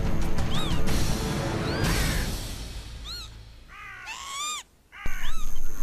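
A crow in wild Wales caws harshly several times while other birds dive at it. The calls come in short clusters over a rushing, crashing noise.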